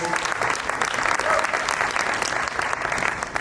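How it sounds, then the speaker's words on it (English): An audience at a startup pitch competition breaks into loud, dense applause that stays steady throughout, many hands clapping at once, close and full. "Please give a round of applause to all our donors."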